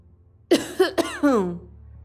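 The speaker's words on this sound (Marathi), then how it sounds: "पुन्हा खोकलत बाबाने उत्तर दिलं" An old man coughs in a Marathi audio drama. It is a short, close fit of about four harsh, raspy coughs, and then it trails off into quiet.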